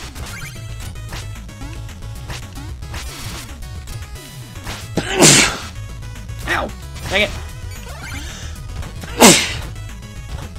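Loud, sharp sneeze-like bursts from the video game Shovel Knight stand out twice amid busy game effects and chiptune music, while a player talks over the action.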